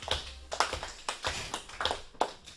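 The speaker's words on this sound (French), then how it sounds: "Ok, on t'applaudit très fort, Lucas." A school audience claps for Lucas, a quiz contestant at a collège radio game show. The claps come as sharp, evenly spaced bursts in a steady rhythm, close and moderately loud, with no talking.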